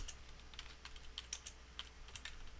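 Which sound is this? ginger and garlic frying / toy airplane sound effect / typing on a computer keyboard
typing on a computer keyboard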